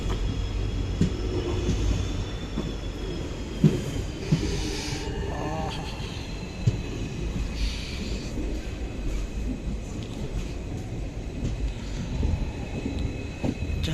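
A train on the Talguppa to Mysore line rumbles steadily along the rails near Sagara, a continuous heavy low roar with faint high tonal squeals and a few clunks over fourteen seconds.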